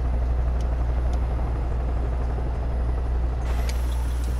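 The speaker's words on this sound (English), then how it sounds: "just about to land the helicopter here" Steady helicopter rotor and engine drone in Far Cry 5 as the aircraft comes down to land, a loud continuous low rumble with a brief shift in pitch near the end.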